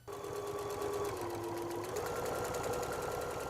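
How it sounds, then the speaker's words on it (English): A sewing machine runs steadily while top stitching a folded fabric edge on a costume, an even, continuous whir with a slight change in pitch partway through, close and quiet. "Now we're going to top stitch a 1/2 inch away from this edge."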